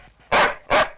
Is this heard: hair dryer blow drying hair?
no